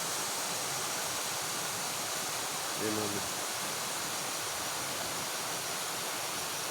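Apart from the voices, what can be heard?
flowing stream water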